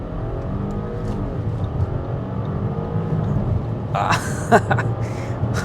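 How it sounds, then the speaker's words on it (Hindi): An Audi Q7 accelerating hard to about 2500 rpm with traction control off, a steady low engine drone building slightly. Brief bursts of other noise appear near the end. "एक्सेलरेट पूरा मैंने कर दिया, almost 2500 RPM. Here we go."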